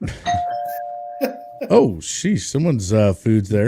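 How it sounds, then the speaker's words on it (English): A home doorbell chimes once at the start with a sustained ringing tone, followed by a voice talking in the foreground. "No, that was my doorbell."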